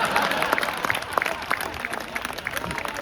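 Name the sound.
audience clapping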